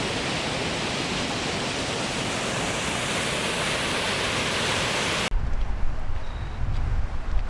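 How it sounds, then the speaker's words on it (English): A waterfall swollen after heavy rain, a loud, steady, dense roar of falling water for about five seconds before cutting abruptly to a quieter outdoor scene. "Granted that year there was a lot of rain, so this waterfall was quite dramatic"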